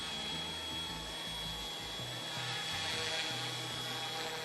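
A small helicopter hovers in gusty wind, its rotor and motor giving a steady, loud, unbroken whine and hum with a low fluttering rumble underneath throughout.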